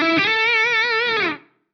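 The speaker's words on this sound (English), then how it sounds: "I can overdrive the high band while leaving the low band less driven" An Eventide H9 overdrive on the high band gives a single sustained distorted guitar note, bright and buzzy with slight wavering vibrato, ringing alone for over a second before cutting off sharply.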